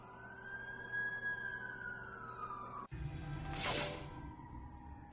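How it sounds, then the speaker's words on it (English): A wailing ambulance siren in the Spider-Man video game sweeps up and down steadily over a low city hum, then cuts to a louder, brighter burst as the scene shifts. "That's the ambulance I called."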